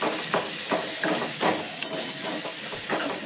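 Okra frying in a pan with onion and green chilli in a home kitchen, a steady close sizzle and hiss broken by soft stirring scrapes, with no talking.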